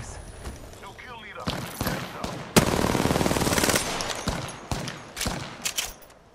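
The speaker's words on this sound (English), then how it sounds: "They're shooting at us" Bursts of automatic gunfire from enemies in an Apex Legends match, loud rapid machine-gun strings broken by single sharp shots, with players talking between the bursts.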